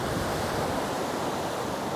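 Sea surf at Mirissa Beach, Sri Lanka: a dense, steady wash of breaking waves mixed with wind noise on the microphone, continuous and unbroken.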